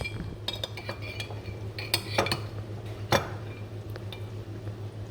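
A metal spoon clinks against a cooking pot while ghee goes into tender mutton for kosha mangsho, a few sharp scattered taps and scrapes over a low steady hum in a kitchen.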